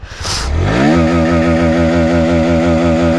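A 2024 Bajaj Pulsar NS160 motorcycle starts with a short starter whir, catches, and settles into a steady, loud, close-up idle with an even pulsing rhythm.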